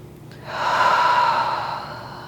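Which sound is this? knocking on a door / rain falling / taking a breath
taking a breath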